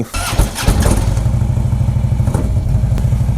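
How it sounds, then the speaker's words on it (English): A 2011 Harley-Davidson Road King Classic starts cold with a cranking clatter, then settles into a loud, close, lumpy V-twin idle with a steady potato-like pulse. "This is a 2011 Harley Davidson Road King Classic."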